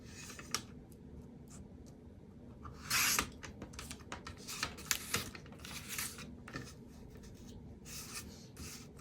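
Scissors snip around a diamond painting canvas, a crafting project, with quiet repeated cuts and rustling of the sheet, plus one louder burst of crinkling partway through.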